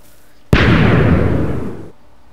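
A single loud TNT cannon explosion in Minecraft bursts suddenly and rumbles for over a second before cutting off, with quiet before and after.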